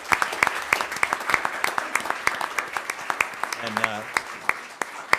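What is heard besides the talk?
audience applause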